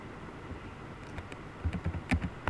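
Faint computer keyboard typing, a scatter of light key taps that grow busier and louder near the end, entering C code.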